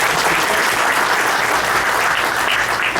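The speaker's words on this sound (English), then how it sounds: "Please give a big round of applause." A large audience applauds steadily and loudly throughout, a dense continuous round of clapping at a 2016 event with no voices standing out.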